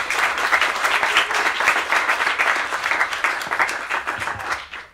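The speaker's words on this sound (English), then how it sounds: "I'll give a warm applause" Warm applause from a small audience at a casual talk event, dense and lively clapping close by that holds steady before fading out at the end.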